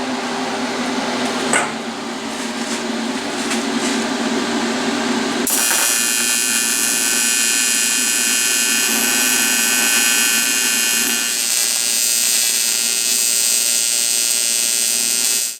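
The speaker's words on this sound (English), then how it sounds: "So right now I'm going to weld them into place" Intercooler brackets are welded onto a 5.2 Magnum turbo build. A loud, steady electric buzz and hiss runs for several seconds with abrupt shifts in tone, close and continuous with no talk.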